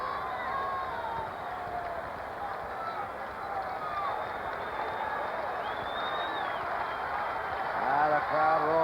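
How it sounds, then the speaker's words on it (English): A large stadium crowd roars continuously at a 1975 World Series Game 7 between the Reds and Red Sox, ninth inning with two out, a steady dense wall of cheering and babble that swells near the end. "The crowd roaring."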